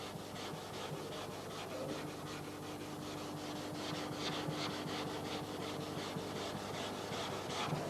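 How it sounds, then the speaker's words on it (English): Steady hand rubbing down a GRP fibreglass body panel on a Robin Hood Series III kit car, a continuous close scratchy swishing in an even back-and-forth rhythm, with no voices. "Remember, just as we're rubbing this down,"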